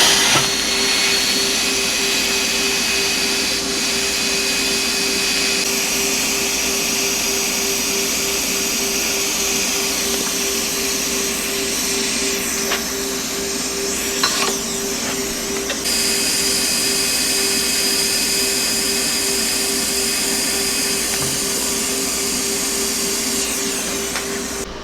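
A welding bead is laid on a homemade metal downrigger weight, giving a steady, close, continuous crackling hiss with a constant buzzing undertone that lasts about 25 seconds without pause.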